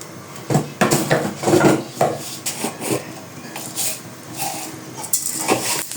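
A kadai with oil being handled while cooking a soybean curry tempering: irregular metallic knocks, scrapes and clatters of the pan and utensils, moderately loud with no speech.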